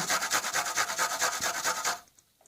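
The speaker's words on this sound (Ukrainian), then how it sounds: "Натираємо на ту саму решітку терточку." An onion grated on the same hand grater used for raw potatoes while making beet cutlets: about two seconds of quick, steady, rhythmic rasping strokes, close and clear, then an abrupt stop into near silence.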